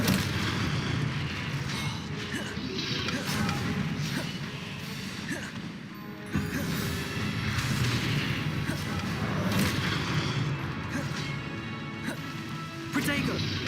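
Confringo spell explosions in Hogwarts Legacy, a run of booming blasts and crashing impacts mixed with combat effects and music, dense and loud throughout, with a sharp hit around the middle.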